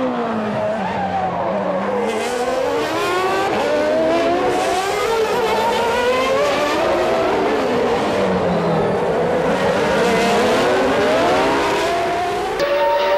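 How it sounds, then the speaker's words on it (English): Formula 1 cars from the Schumacher and Barrichello era, including a Jordan, race past at full speed, their high-pitched engines whining and sweeping up and down in overlapping tones, loud and continuous throughout. "Schumacher outdrags the Jordan and takes the lead around the outside"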